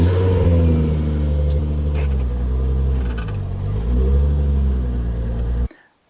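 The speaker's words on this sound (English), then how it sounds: "I'll actually move the 240Z" A Datsun 240Z engine runs at a steady mid-pitched rumble while the car is moved, rising and dipping slightly, loud and near, then cutting off abruptly near the end.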